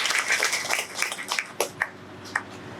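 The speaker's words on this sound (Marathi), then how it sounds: "जोरदार टाळी." Loud applause and clapping from an audience at a Marathi devotional gathering honoring a Datta deity puja, a short burst of sharp claps that fades within a few seconds.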